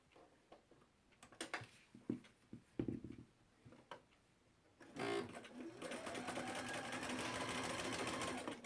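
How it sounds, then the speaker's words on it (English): Sewing machine stitching quilt rows, a steady continuous whir that starts partway in and runs loud to the end, after scattered handling clicks and taps of fabric and pins. "This is where I want to start sewing."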